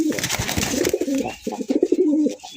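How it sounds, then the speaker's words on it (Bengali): Red desi Bombay pigeons on a breeding farm coo in close, throaty rolling phrases, several calls in a row with brief pauses, loud and near with no speech. "লাল টুকটুকে একজোড়া দেশি বোম্বাই কবুতর"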